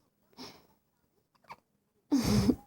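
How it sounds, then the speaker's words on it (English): A baby hiccups faintly a couple of times in a quiet room, followed by a louder breathy burst near the end. "You got the hiccups"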